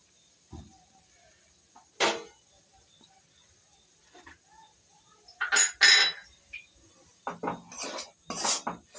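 Utensil stirring fried loitta fish (Bombay duck) with garam masala in a pan, heard as sparse, close metallic scrapes and clinks that come in brief clusters over a quiet background.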